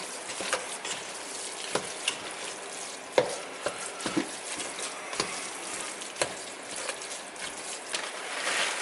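Taco meat and melting cream cheese sizzle and fry in a pan, a steady crackle broken by periodic sharp scrapes and knocks of stirring, close and alone.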